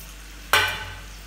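Onions hit hot oil in a pan for tarka daal with a sudden loud sizzling burst that spikes sharply, then settles into a steadily fading hiss over about a second.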